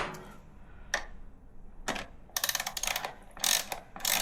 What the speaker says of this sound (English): Then use a ratchet.